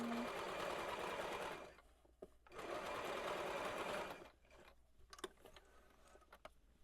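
A sewing machine stitches layers of a shirred dress under the presser foot, running in two steady bursts of fast motor whir with a short pause between, then stopping, followed by quiet scattered clicks and small handling sounds.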